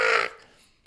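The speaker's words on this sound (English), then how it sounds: "Black with crows flying" A single harsh crow caw, loud and close, cut off quickly and fading into near silence.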